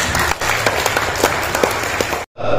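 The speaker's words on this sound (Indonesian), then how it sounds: "Tepuk tangan untuk keluarga." An audience applauds at a regional youth organization's assembly in Tegal, Indonesia, dense steady clapping that fills the space before cutting off abruptly near the end.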